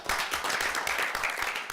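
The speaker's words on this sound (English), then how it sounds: "I think they deserve a round of applause." A board meeting audience claps in steady, dense applause that stays fairly quiet and even throughout the short stretch.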